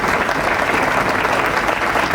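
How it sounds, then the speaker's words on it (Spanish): A ceremony audience bursts into sustained, dense applause for a group of young people, many hands clapping loudly and steadily throughout. "Pido el aplauso para estos chicos que han estado en todos estos actos"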